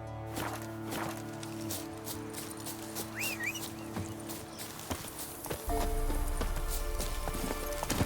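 Roach, Geralt's horse in The Witcher 3: Wild Hunt, sets off in clear clip-clop hoofbeats that quicken from a walk into a run over a low game background, with a brief whinny partway through and no voices.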